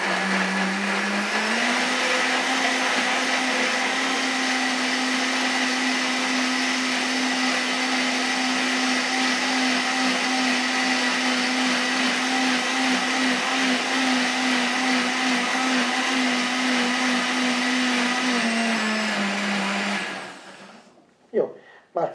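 A blender purees soaked dates with their soaking water into thick syrup, a loud steady motor drone with a sustained whine for about twenty seconds before spinning down and stopping, followed by brief clatter.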